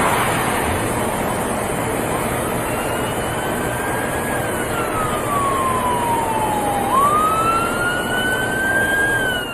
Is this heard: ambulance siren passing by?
yes